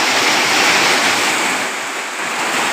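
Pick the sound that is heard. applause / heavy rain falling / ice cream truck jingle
heavy rain falling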